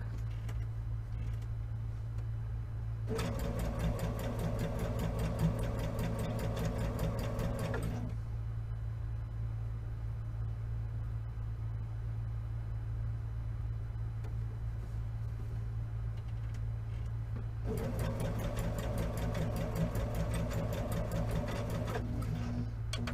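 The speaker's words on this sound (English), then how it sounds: "So I'm going to sew my squares together." A sewing machine stitches quilt squares into a four-patch in two steady bursts, the first lasting about five seconds and the second returning near the end, with a constant low electrical hum running underneath throughout and no talking.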